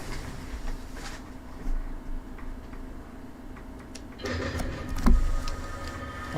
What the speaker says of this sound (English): Oh, that's a train ahead of you.